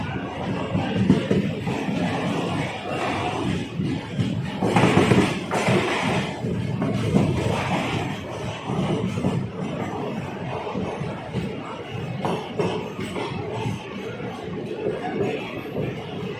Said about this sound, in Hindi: भीड़ काफ़ी इंतज़ार कर रहे हैं यहाँ पे भी